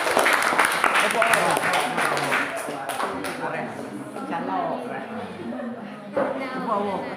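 Classroom applause for a student group, a burst of clapping that fades while voices carry on over it, with some tapping and chatter.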